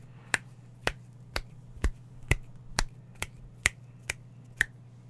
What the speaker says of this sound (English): So again, I'll use the finger snap.